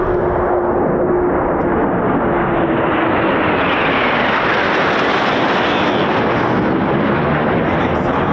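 Eurofighter Typhoon FGR4 military jets, a four-ship formation, roar past at an RAF airshow, a loud broadband rumble that swells and slowly fades over several seconds with no talk.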